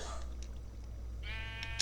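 A sheep character in a video game bleats once near the end, a short wavering cry that rises over a low steady hum of game background sound.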